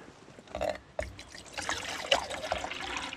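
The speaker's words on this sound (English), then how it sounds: "let's get some water on for some coffee" Water being poured into a pot to make coffee at a wilderness campsite by an alpine lake, a close, quiet trickle and splash in short bursts with small clinks.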